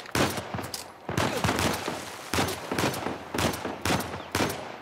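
Gunfire in the video game Uncharted 4: loud, close bursts of rapid shots arriving in several separate volleys with short pauses between them, with no talk over them.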